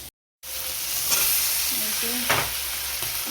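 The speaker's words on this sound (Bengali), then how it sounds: "এই এবারে লাউ শাকটা মাছের উপরে দিয়ে দেবো, আর মশলাটা আলুর সঙ্গে ভেজে নেবো।" Spice paste of ground ginger, cumin and chilli frying with potatoes in a pan, giving a steady close sizzle with a couple of stirring scrapes after a brief silent gap at the start.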